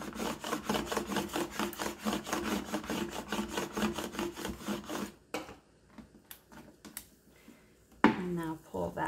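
Transfer tape is scraped down onto a Dollar Store blank in quick, even rubbing strokes that stop abruptly, followed by faint handling noises and a brief sharp scrape.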